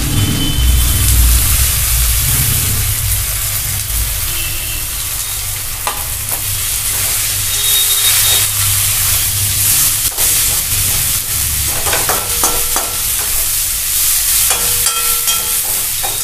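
Chopped onion sizzles and crackles steadily in a hot pan of oil, a loud continuous frying hiss with occasional scraping stirs, no talking.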